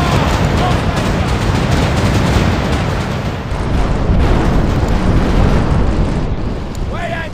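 Heavy ship cannon fire in The Pirate: Caribbean Hunt, a naval battle game, forms a loud, dense wall of booming blasts that roll on without pause for the whole stretch.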